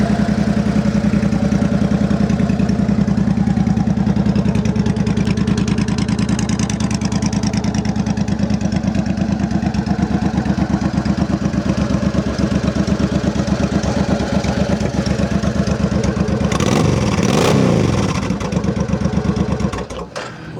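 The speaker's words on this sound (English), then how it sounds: "It's got a nice idle to it. No funny noises coming from the engine." A used Suzuki Boulevard C90T K5 motorcycle engine idles steadily and loudly up close, then gives a brief, sharp rev near the end before settling back down.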